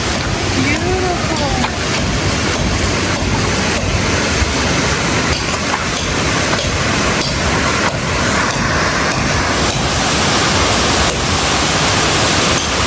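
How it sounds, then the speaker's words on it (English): A waterfall near Puerto Vallarta, Mexico, pours into a mountain pool, giving a loud, constant broadband rush of falling water that fills the whole scene without a break. "Now that's a waterfalls."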